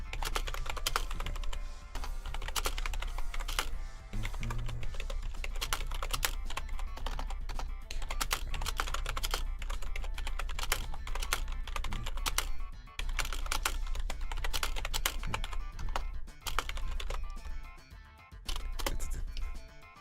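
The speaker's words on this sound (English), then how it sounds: "sorry for all the typing" Rapid, continuous clatter of keys on a computer keyboard fills the recording, close and steady with brief pauses, as someone types messages at length with no talking.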